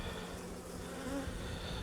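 Honeybees working a hive mid-split, a steady close hum of many wings droning without pause and no voices.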